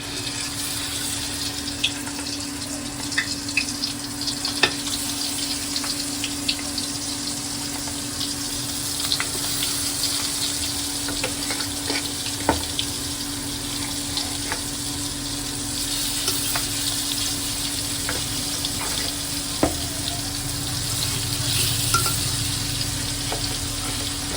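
Fish fries in a pan on a low gas flame with a steady, even sizzle and scattered pops and spits over a faint constant hum, continuous and close with no talk.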